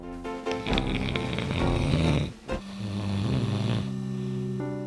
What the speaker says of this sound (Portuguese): O ronco nunca foi levado muito a sério, mesmo pelos médicos.